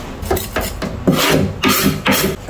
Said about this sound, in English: So I found this brick outside. I wasn't able to purchase a sharpening stone as yet. So let me give this knife a little edge.